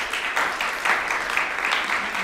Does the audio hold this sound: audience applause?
yes